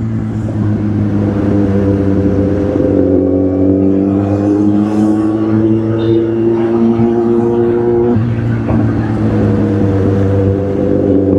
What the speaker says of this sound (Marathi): गाडीचा आवाज ऐकलं